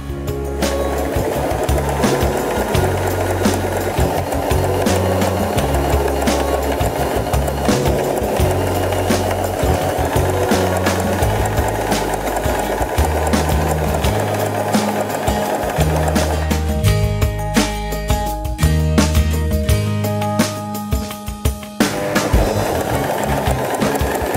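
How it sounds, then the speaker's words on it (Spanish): A Janome 3016 domestic sewing machine stitches steadily, its fast mechanical chatter running loud and close for nearly the whole stretch with a brief shift in tone near the end; no talking. "Volvé a alinear y preparar tu máquina, baja el prensatelas y continúa."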